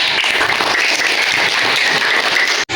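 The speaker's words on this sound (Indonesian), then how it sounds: "Oke, tepuk tangan buat Putri" Classroom applause for a student during a coding and computational-thinking lesson: a dense, steady wash of clapping that fills almost the whole stretch, then cuts off abruptly near the end.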